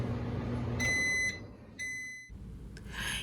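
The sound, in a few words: microwave oven running then beeping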